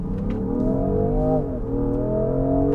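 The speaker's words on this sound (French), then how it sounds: "je vais accélérer à fond pour voir ce que ça donne" Range Rover Sport P440e plug-in hybrid in dynamic mode accelerating at full throttle, a steady loud engine note climbing in pitch, dipping briefly as a gear changes, then rising again.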